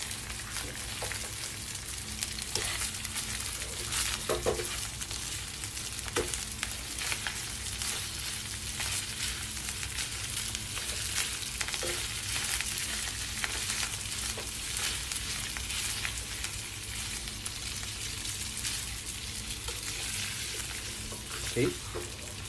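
Pasta being stirred into shrimp in a frying pan, a loud steady sizzle with occasional scraping and stirring clatter across the whole stretch, with no voice over it.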